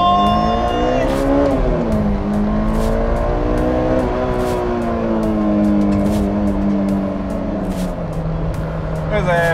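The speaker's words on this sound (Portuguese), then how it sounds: "esta semana não vamos ter rotações com fartura, vamos ter 9 mil" A Honda S2000 engine of 240 hp revs hard toward its 9,000 rpm limit, a loud, continuous rising and falling howl with layered harmonics filling the whole stretch, close and dominant.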